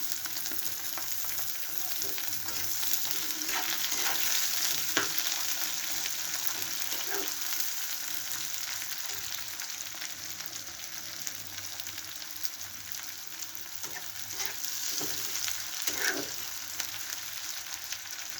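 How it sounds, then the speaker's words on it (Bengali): Chopped tomatoes hit browned onions with slit green chillies in a pan, giving a steady, close frying sizzle with a few stirring scrapes throughout, no voices. "পেঁয়াজটা লাল লাল হয়ে আসছে। এখন দিয়ে দেবো টমেটো, কুচানো টমেটো।"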